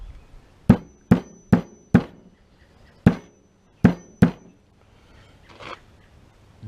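A hammer taps a metal band on a CV axle of a Polaris RZR, giving seven sharp, ringing strikes in uneven groups, close and loud, with quiet gaps between.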